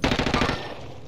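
Rapid automatic gunfire from Call of Duty Cold War Warzone, a loud burst of evenly spaced shots lasting about half a second before trailing off into a fading echo.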